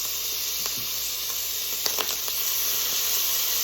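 Garlic and diced onion sizzle steadily in a hot pan with browned beef for cheeseburger soup, a close, continuous frying hiss with faint crackles and no talking.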